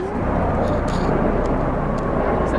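A steady helicopter engine drone hums overhead throughout, with faint distant shouts rising above it now and then.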